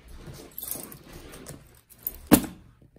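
Bunch of house keys jangling up close in a quiet room, a brief rattle followed by one sharp metallic clink, used in place of scissors to open a package.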